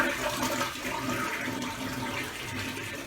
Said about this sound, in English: All right, so give it one more flush.